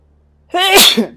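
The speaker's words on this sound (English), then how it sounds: "I'm gonna sneeze." A single loud sneeze close up in the video game Fallout 4: Far Harbor: a rising nasal intake breaking into a sharp explosive burst, then a brief trailing exhale.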